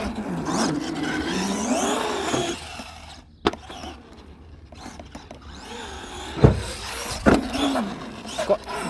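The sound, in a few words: Arrma Gorgon two-wheel drive RC car driving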